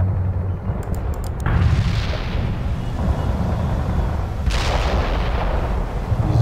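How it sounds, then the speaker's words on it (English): Heavy booming blasts and rumbling explosions from a precision artillery strike on Russian heavy tanks in the World in Conflict video game, loud and sustained with layered impacts, without speech. "One more precision artillery."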